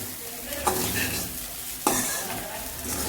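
Poha being stirred in a sticky, non-nonstick pan, a steady scraping and faint sizzle with two sharp clinks of the spatula against the pan.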